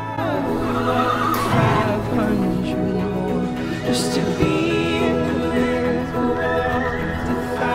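Clydesdale horses whinny in a Budweiser Puppy Love commercial, with several loud, quavering neighs over a background of music and faint hoof sounds.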